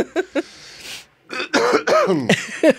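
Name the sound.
people coughing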